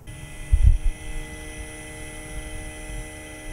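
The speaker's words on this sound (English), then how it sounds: "what I like to do is warm up the spindle" ShopBot Desktop CNC spindle warming up after long disuse, giving a steady electrical whine and hum with layered tones, alongside a brief low thump near the start.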